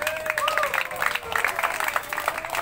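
Scattered clapping from an audience at a contest, moderately loud and brief, with voices and whistle-like tones over it.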